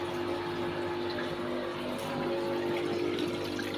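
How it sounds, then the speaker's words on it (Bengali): Water from a supply tap runs steadily during clothes washing, a continuous close rush and splash with a faint hum underneath and no talking. "এই যে কাপড় ধোয়া হচ্ছে, জল খুলেছে সাপ্লাই, দেখো"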